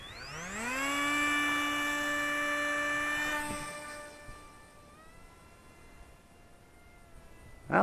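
A FreeWing F86 64mm electric ducted-fan RC jet, converted to 2S brushless power, spools up to a loud rising whine on launch, holds a steady high-pitched roar, then fades as it flies off outdoors.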